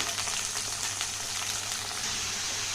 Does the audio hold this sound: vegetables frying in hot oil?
yes